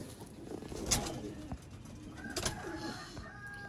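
Sialkoti pigeons coo softly in a few low, throaty bursts, with sharper high clicks and light rustling between them, close by and without speech.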